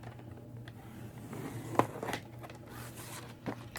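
A tool scores a line down the center of a sheet of cardstock: faint papery scraping and rubbing, a sharp click in the middle and a couple of small taps, quiet and close, without speech.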